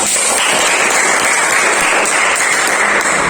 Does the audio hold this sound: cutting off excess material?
no